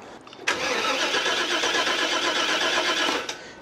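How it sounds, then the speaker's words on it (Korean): A 1995 Chevrolet van that won't start, just fitted with new spark plugs, cranks loudly and close up in one continuous whirring stretch of about three seconds that never catches, then cuts off abruptly. "그래서 지금 시동이 걸리는지 한번 봅시다."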